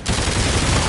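Loud gunfire in Call of Duty Infinite Warfare, a dense, continuous rattle of shots filling under a second with no pause.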